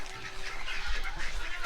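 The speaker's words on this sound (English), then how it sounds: "They're coming to get this feed that the ducks love so much." Ducks and geese call around scattered feed at a pond, a steady mix of quacks and honks at moderate distance with a continuous low rumble underneath.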